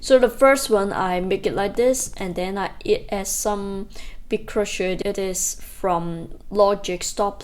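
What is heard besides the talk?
No distinct noise like a dog, phone or traffic.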